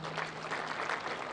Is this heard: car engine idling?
no